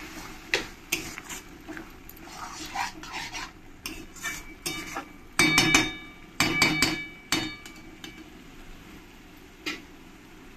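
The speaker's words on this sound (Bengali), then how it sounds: "জল দিয়ে ভালো করে মশলার সঙ্গে মিশিয়ে নেব।" A spoon stirs a spice paste loosened with water in a pan for mutton kosha, making irregular clinks, knocks and scraping bursts against the metal, some loud and close, over a faint background, with no voice.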